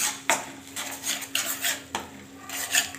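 A metal spoon stirs and scrapes masala paste of tomato, onion, ginger and garlic in a pan for egg curry, giving repeated clinking scrapes in an uneven rhythm, close and fairly loud, with no talk.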